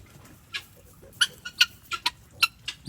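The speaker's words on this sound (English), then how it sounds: "Look at these beautiful guinea birds." Guinea fowl at a farm animal sanctuary give a run of sharp, repeated calls, several close chattering cries spaced irregularly over a quiet background.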